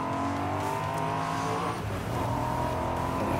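A Corvette C8 sports car accelerating hard, a loud, steady engine roar with rising pitch and a brief dip as it shifts, heard from inside the car, no talk over it.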